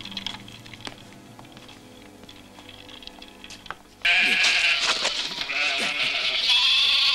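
Sheep bleat loudly and repeatedly after a quieter stretch, several overlapping calls close by, with faint tapping in the background before they start.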